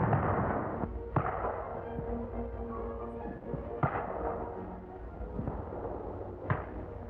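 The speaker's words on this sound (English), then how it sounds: "Heavy mortars cover the advance." Heavy mortar fire on a wartime battlefield: a few sharp, loud reports spaced several seconds apart over a dense, continuous rumble of distant battle.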